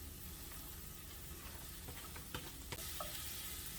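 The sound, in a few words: yucca flowers being stirred and cooked in a pan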